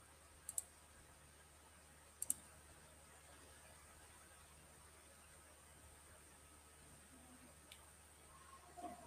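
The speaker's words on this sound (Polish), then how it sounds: "Już sobie klikniemy." A computer mouse gives a few sharp, isolated clicks, quiet and close, spaced apart over a mostly silent desk background.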